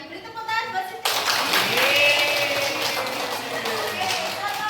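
Children clap together in a classroom for a classmate named Siti during a dance lesson. The applause is dense and sustained, filling the room right after a short lead-in of voices, with a teacher's voice faintly under it.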